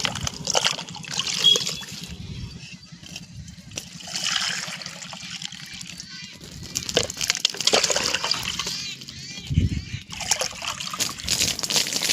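Water pours and trickles into a bucket, with splashing and gurgling that shifts in tone, plus occasional clunks and handling noises.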